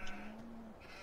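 A sheep bleats once in a farming video game, a short, quiet, wavering cry over a soft background hum.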